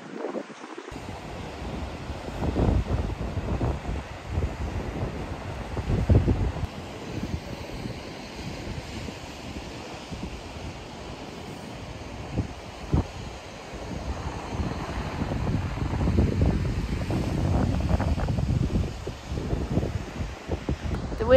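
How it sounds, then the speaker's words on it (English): Strong wind blowing at the ocean beside a travel trailer on a cold day, a continuous broad roar that swells and eases with gusts, with distant surf mixed in and no clear talk. "The wind died down a little bit."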